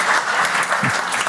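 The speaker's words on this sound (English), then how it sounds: "My mom started that clap, I'm pretty sure." A church congregation claps loudly and steadily, a dense wash of many hands applauding together throughout.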